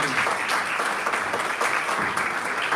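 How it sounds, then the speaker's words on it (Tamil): An audience at a Tamil pattimandram debate event in Ireland claps in sustained, dense applause, many hands together filling the hall at steady loudness throughout. "அவங்களுக்கு ஒரு கைத்தட்டுதல் கொடுக்கணும்."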